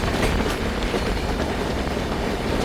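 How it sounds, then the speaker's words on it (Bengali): Kulik Express on the Howrah–Radhikapur line rolling past on the rails near Harishchandrapur in West Bengal, a steady loud rumble with rhythmic wheel clatter throughout, no voices. "এটা হচ্ছে কুলিক এক্সপ্রেস।"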